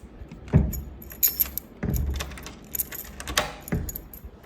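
Door keys in an apartment in Cape Coast, Ghana, a bunch of metal keys jangling and clinking in several close, irregular bursts separated by short pauses.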